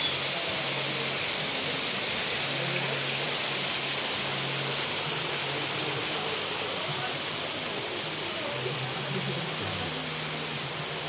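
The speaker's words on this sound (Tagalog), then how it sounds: "Wow, falls." Kakawayan waterfall in Infanta, Quezon roars as a loud, steady, broadband rush of falling water, constant and close throughout, with no pauses or other distinct sounds.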